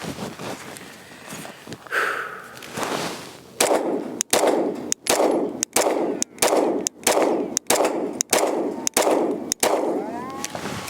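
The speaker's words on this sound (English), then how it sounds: "I'm gonna do the first initial shots out of the new Springfield EMP Ronin" A Springfield Armory EMP Ronin 9mm 1911 pistol with a 4-inch barrel fires about a dozen loud, sharp shots at an even, deliberate pace, each followed by a short ringing echo outdoors.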